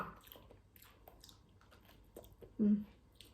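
Ripe durian being chewed close to the mic, faint soft wet mouth sounds and squishy bites, ending in a brief louder vocal noise.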